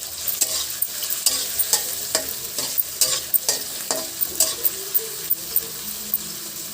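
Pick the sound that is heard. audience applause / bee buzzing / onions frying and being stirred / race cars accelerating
onions frying and being stirred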